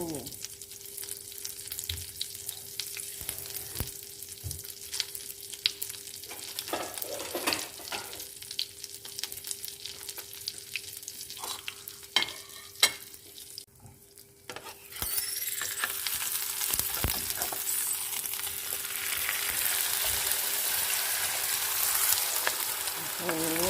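Omelette frying in a pan for a Thai breakfast: a steady near sizzle with scraping stirs. It grows louder and fuller in the second half, with a faint background hum throughout.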